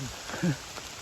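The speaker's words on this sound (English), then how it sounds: "It's definitely pouring" Heavy rain pours down on the Appalachian Trail in Pennsylvania, a soft, steady hiss of drops on surfaces, with a brief low vocal sound in the middle.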